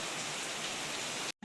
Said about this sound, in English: And then it was raining like crazy.